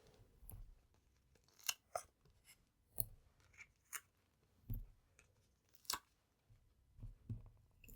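Backing being peeled off adhesive foam dimensionals while making a card, heard as a string of quiet, crackly tearing and rustling bursts in short separate pulls, with no talk.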